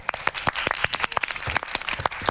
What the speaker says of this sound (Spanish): Le damos un aplauso a Laura Frula y a Jorge Medina